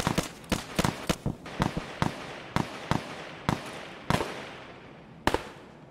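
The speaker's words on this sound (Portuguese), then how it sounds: "Escuto o tiro e vejo a distância." Sharp cracking shots in Escape from Tarkov, a dozen or so at irregular intervals, muffled and distant, with no talking.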